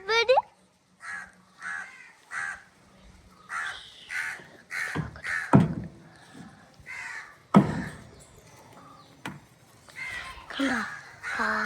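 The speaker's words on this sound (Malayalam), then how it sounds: "കണ്ടോ കാക്ക കാക്ക." A crow near a rice paddy gives repeated loud, harsh caws in a ragged series, close to the microphone, with people talking in between the calls.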